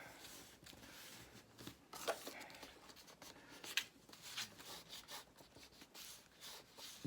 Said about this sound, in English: Just folding this piece down is going to give you a smoother edge